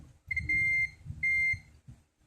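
A digital multimeter's continuity buzzer gives two steady electronic beeps in succession, each about half a second long, over a faint low rumble.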